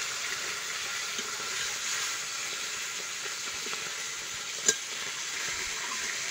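Fish frying in hot oil in a village-style kitchen, a steady, even sizzle holding at a close, moderate level throughout, with one brief sharp clink near the end.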